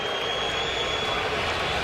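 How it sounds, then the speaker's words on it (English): Baseball stadium crowd at a Guardians vs Mariners game buzzing as a ball flies up, a dense, steady roar of many voices filling the park throughout. "You could hear the crowd buzz when that thing went up"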